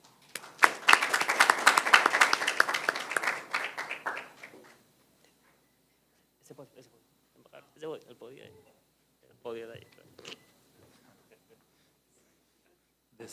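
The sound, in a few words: audience applause welcoming the ambassador at a conference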